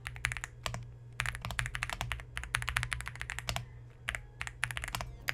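Fast, uneven typing on an Ala F75 mechanical keyboard, sounding close and crisp, with quick bursts of keystrokes broken by short pauses and no talking.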